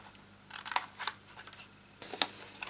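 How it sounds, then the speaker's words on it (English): Scissors snip through card at a slight angle during a greeting card box craft, a few quiet, sharp cuts in two short bursts with pauses between. "Now I'm going to cut up here at a slight angle and then come round to this side and cut a very straight line"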